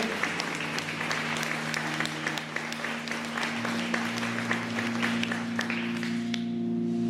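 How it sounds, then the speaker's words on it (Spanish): Applause from a church congregation fills the space for about seven seconds, a steady dense clatter of many hands that holds evenly and thins slightly near the end, with a sustained organ or keyboard tone underneath. "Dale un aplauso a Dios si tú lo puedes creer"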